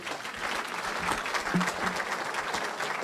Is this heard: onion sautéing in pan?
no